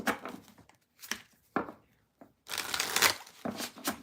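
Tarot cards shuffled by hand in short papery bursts with pauses between, quiet and close, ending in a longer riffling flurry.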